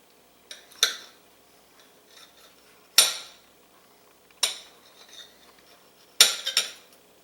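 A knife cuts through a grilled cheese sandwich on a plate, giving four separate crisp scraping clinks spaced a second or two apart, close and clear against near silence.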